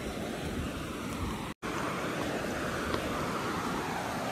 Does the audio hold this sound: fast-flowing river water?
yes